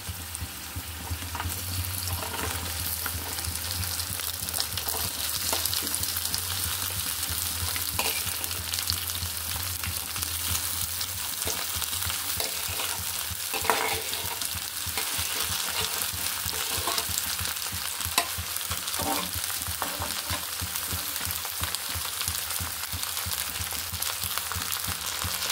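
Okra fries in hot oil with a small bay leaf in a pan, giving a loud, continuous close sizzle with scattered pops and crackles that holds steady throughout.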